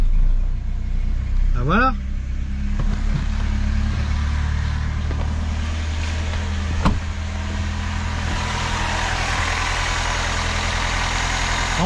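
A Peugeot 309 GR, revived after 20 years, cranks and catches, then settles into a steady close idle with a brief revving blip, while someone speaks over it.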